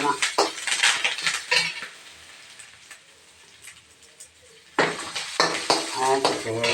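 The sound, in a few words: stirring and sautéing coconut rice in a pan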